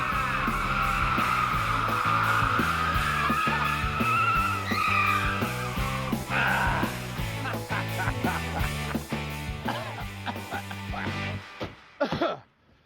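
Car driven ahead of a MythBusters drop test, with engine revving in rhythmic pulses and a tire squeal, loud and close before cutting off abruptly near the end.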